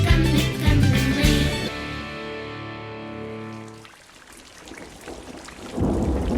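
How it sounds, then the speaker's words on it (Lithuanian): Thunder rumbles and rain pours within a musical audio fairy tale, rolling over a sustained music bed that drops away, leaving the steady hiss of falling rain that swells louder near the end. "Dun, dundulis skelbia."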